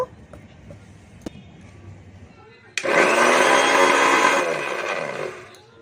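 One cup of sugar ground into powder in an electric mixer-grinder: faint clinks and handling first, then a loud, steady whirring grind for about three seconds that winds down at the end.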